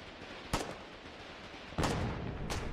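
An artillery battery fires in the Foxhole war video game, giving two or three sharp, booming reports spaced a second or so apart over a rumbling battlefield backdrop.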